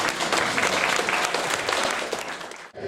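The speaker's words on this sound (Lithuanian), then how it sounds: "Čia turėtų būti jūsų aplodismentai." Students at a Vilnius adult gymnasium school celebration applaud in a hall, a dense burst of many hands clapping for about two and a half seconds before tapering off, with no voices over it.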